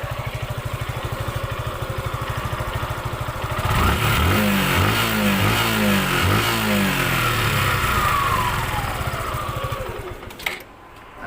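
A Suzuki Gixxer SF FI ABS motorcycle with its stock exhaust idles in a steady low thump, then revs up loudly and holds a strong, rising engine note for several seconds before dropping back.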